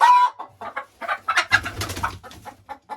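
A crested hen gives a quick run of close, fairly loud clucks and throaty calls over a few seconds, with no voices.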